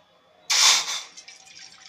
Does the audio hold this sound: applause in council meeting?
no